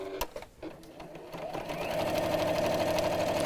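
A sewing machine stitches straight quilting lines, a steady rapid mechanical whir that starts after a few brief clicks and runs on evenly, close and fairly quiet.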